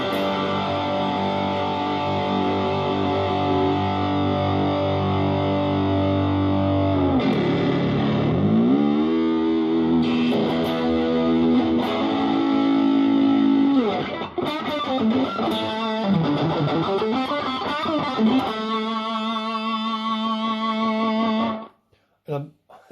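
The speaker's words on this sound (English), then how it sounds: "back off the distortion even, because, you know, it is starting to get a bit noisy there, but that's full distortion" An electric guitar played through a BOSS DS-1 distortion pedal set to full distortion rings out loud and buzzy, with sustained chords and sliding notes, some noise, and a voice briefly at the end.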